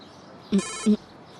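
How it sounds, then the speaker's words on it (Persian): A telephone rings in two short, loud bursts with a pause between them, heard plainly with no talk over it. "چرا تلفنت جواب نمیدی؟ زر زر زر"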